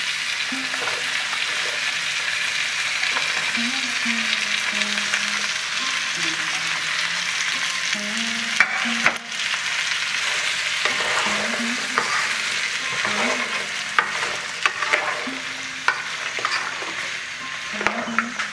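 Salted eggplant and mixed vegetables fry together in a pan for sambar dal. A continuous close sizzle runs under repeated scraping and stirring strokes, with occasional sharp clacks of the utensil against the pan.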